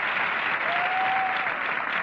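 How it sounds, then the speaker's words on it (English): An audience applauds a speaker recounting a prison escape, a steady, even wash of clapping throughout with a faint brief tone threaded through the middle. "don't applaud too long"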